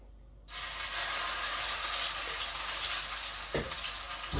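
Cumin, bay leaf and grated onion hit hot oil with a sudden loud sizzle that holds steady and close, with a brief clatter of stirring near the end.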